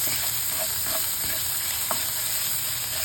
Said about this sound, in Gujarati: ધીમા તાપે આપણે તેને સારી રીતે મિક્સ કરી લઈશું